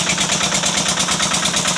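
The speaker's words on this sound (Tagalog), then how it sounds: "Ayan, makina niya. Diesel." A diesel engine runs steadily at close range beside a rice-field shower in Pamplona, its throbbing idle-like pulse loud and continuous with no talk over it.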